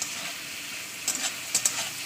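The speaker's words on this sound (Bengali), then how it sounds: "দেখতে পাচ্ছেন আমার চিংড়ি কিন্তু ভাজা হয়ে গেছে।" Prawns with turmeric fry in a pan with a moderate, even hiss. A few sharp little spatters and pops stand out in the second half.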